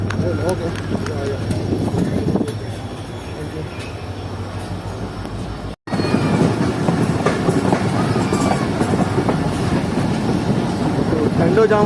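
Shah Latif Express carriages rolling along the rails on the Karachi to Mirpurkhas route, a steady close rumble with clattering from the wheels and wind noise, someone talking over it throughout.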